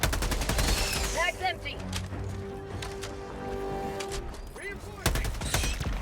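Rapid bursts of automatic gunfire and explosive blasts from the video game Helldivers 2, loud and dense throughout with a few sharp peaks, layered under a constant game soundtrack.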